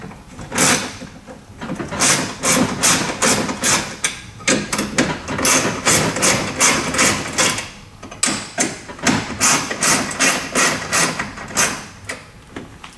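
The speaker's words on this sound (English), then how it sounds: "So I'm going to grab my 8mm socket wrench and just loosen off these bolts." An 8mm socket wrench loosening the seat bracket bolts on a Bluevelo Quest/Strada recumbent, giving close, rapid ratcheting clicks in repeated bursts with short pauses between strokes, with no talk.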